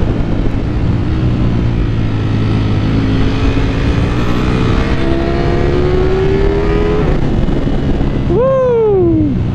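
A Ducati Panigale V4 S motorcycle engine, heard from the rider's position, accelerating with a steadily rising whine over wind noise, then a quick sharp rev up and back down near the end.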